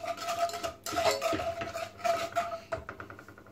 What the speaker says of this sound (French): Toujours à l'aide du fouet, je vais bien mélanger mes ingrédients.